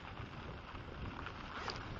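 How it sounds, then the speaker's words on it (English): Wind gusts buffet the microphone while a 2018 RadMini electric fat-tire folding bike is ridden outdoors, a constant close rumbling roar with no voices. "it's getting a little windy"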